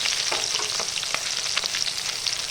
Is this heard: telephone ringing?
no